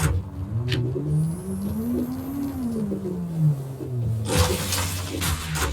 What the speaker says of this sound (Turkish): O bir şeyler kırıldı yalnız. Şangır Şungur sesler geldi.